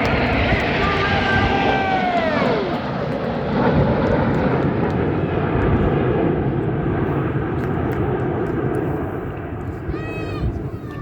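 Royal Air Force Red Arrows jets in a flying display at RAF Cosford roar overhead in a loud, continuous wash of engine noise, with a descending whoosh as aircraft pass and a commentator's amplified voice running beneath.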